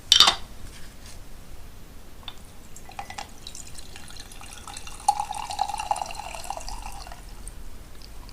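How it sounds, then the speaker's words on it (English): A spoon stirring green tea in a cup gives light clinks and liquid swirling, with a sharp knock at the start and a faint scraping rattle later, no voices. "Give that a bit of a stir."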